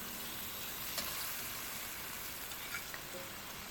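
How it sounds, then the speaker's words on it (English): Shrimp stir-fried on high heat sizzle with a steady, dense hiss that stays even for the whole stretch, with a few faint clinks and no talking. "Stir fry on high heat until the shrimps turn solid white"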